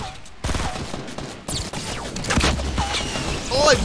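Rapid gunfire bursts from the Fortnite battle royale game crackle loudly and near, with shots and explosive impacts piling up in quick succession, while a voice talks intermittently underneath.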